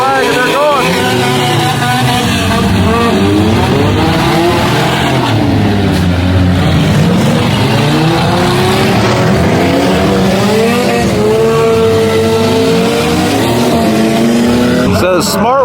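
Many off-road race cars, a large field of jump-racing cars, roar off together at the green flag, a dense wall of overlapping revving engines with rising and falling pitch sweeps, loud and continuous throughout.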